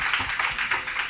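Audience applause at an indoor church health talk, a short burst of dense, fairly loud clapping from many hands, steady throughout.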